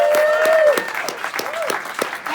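Wedding guests applauding during a maid of honor speech, a loud sustained burst of clapping from a nearby crowd.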